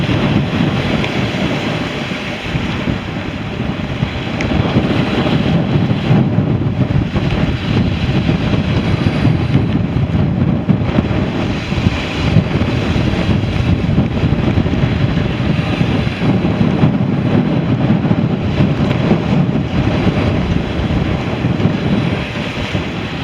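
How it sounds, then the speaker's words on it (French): Strong gusts buffet the microphone aboard a sailboat in the Sognefjord, Norway, a loud continuous roar of wind mixed with rushing water, steady with no talk. "On a des rafales à plus de 7."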